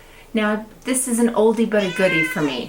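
A house cat lets out a series of loud, close meows, its cries overlapping a person talking nearby indoors.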